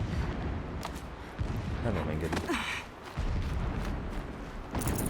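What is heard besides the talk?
distant explosions in video game Horizon Zero Dawn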